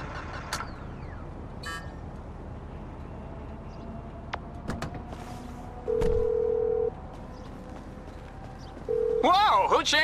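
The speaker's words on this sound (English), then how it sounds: "Whoa, who changed my ringtone?" A cellphone ringtone in GTA 5 sounds amid game noise: a flat electronic tone plays twice, then a warbling melodic ring starts near the end, over a low engine-like rumble with brief game sound effects.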